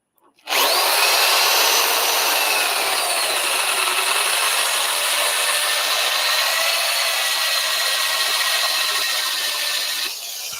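Face grain wood turned on a lathe at 200 RPM, a loud steady whirring hiss of the cutting tool against the spinning blank that starts abruptly and holds constant for about ten seconds, close up, with no talking.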